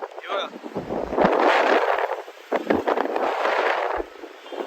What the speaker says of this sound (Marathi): वरती आहोत आणि एवढी हवा सुटली आहे ना बापरे